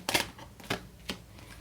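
Tarot cards are picked up and handled, giving three brief, soft papery rustles and flicks spaced apart in a quiet room.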